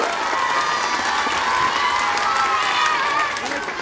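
Sustained audience clapping with some crowd noise fills a madrasa's annual sports and cultural prize ceremony, steady and fairly loud throughout with a slight fade at the end.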